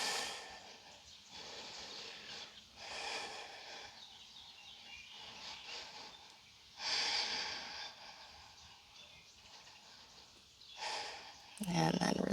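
Deep, audible breaths drawn in and out during outdoor yoga practice in nature, several slow inhale-exhale cycles close to the microphone, with faint birdsong in the background.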